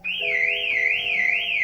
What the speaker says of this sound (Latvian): Un sāk gaudot signalizāciju.